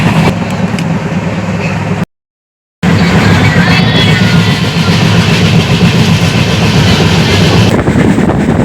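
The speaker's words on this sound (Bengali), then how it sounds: "ট্রেনটা এখন খুব আস্তে আস্তে যাচ্ছে সাপের মতন।" A train creeping slowly along the tracks makes a loud, close, continuous rumble and rattle that cuts out briefly before resuming just as steadily.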